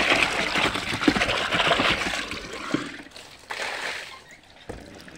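Spring water on a rural farm flows and splashes steadily close by, with uneven gurgling surges that fade and return.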